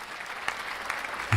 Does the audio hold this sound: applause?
yes